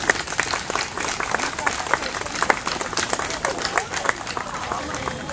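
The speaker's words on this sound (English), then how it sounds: "Please clap for that." Audience applause at a military reenlistment and promotion ceremony at the World Trade Center, a steady wash of many hands clapping at moderate loudness for the full stretch, with voices murmuring underneath.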